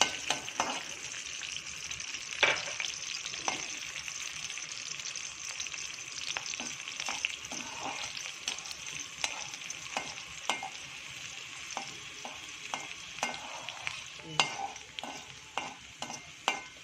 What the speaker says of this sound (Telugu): ఆయిల్ మరుగుతుంది కదా, ఇప్పుడు జింజర్, గార్లిక్ స్లైసెస్ వేసుకోవాలి.